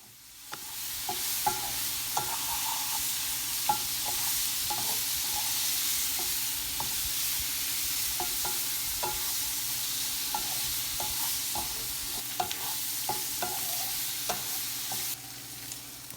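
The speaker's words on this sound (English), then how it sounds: "Now you want to mix again and toss everything around." Miso tofu being stirred and tossed in sauce in a pan, a steady loud sizzle running throughout with small scraping clicks of the spatula scattered across it, close and with no voices.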